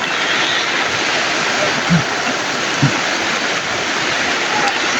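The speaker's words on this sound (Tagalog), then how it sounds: "sobrang lakas talaga ng ulan natin" Heavy rain pours down outdoors at a camp, a steady, loud, dense hiss of water that fills the whole scene, with a couple of brief low thumps breaking through.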